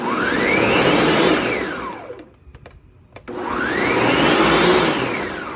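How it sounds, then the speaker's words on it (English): A blender packed full of raw beef fat trimmings whirs loudly in a kitchen, running steadily, cutting out briefly for a second, then starting again and running on. "I got a nice full blender of that fat, and we're gonna make some fat soup."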